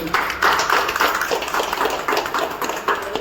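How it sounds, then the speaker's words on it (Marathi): Sustained, dense crowd clapping at a palkhi ceremony of the Swami Samarth math in Parel, loud and steady throughout. "तर आपण निश्चितसाठी जोरदार टाळ्या झाल्या पाहिजे"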